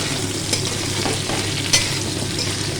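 Sliced potatoes and onions fry in hot oil with bay leaf and five-spice seeds, a constant close sizzle broken by two sharp clinks of a stirring utensil.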